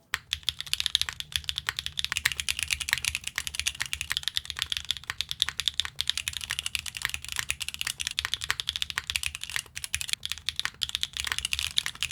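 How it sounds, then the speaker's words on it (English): Continuous rapid typing on a mechanical keyboard fitted with Gateron Black Ink V2 switches, a dense steady patter of close keystrokes with no voices. "here's a comparison with some Gateron Black Ink V2s"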